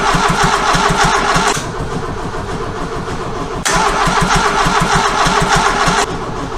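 A Renault Trafic van engine with an ignition fault cranks on its starter motor without catching, a loud, close, rhythmic whirring churn in two long bursts separated by a quieter stretch.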